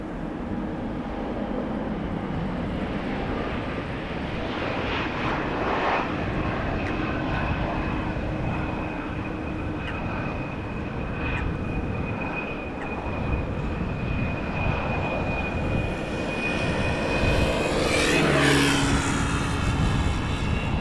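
A KLM airliner on its return flight from Gothenburg at Amsterdam Schiphol Airport, its jet engines roaring steadily throughout and swelling louder toward the end as it passes close by.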